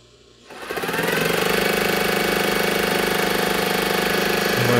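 A sewing machine stitches face mask fabric in a garage. It starts up after a quiet half second, then runs with a fast, steady, even mechanical rattle, close and loud with no talk.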